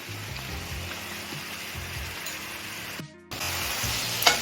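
Salt and Kashmiri chili powder fry in oil for a paneer dish, giving a faint, low sizzle broken by soft stirring scrapes and clinks, with a short quiet gap before the sizzle returns.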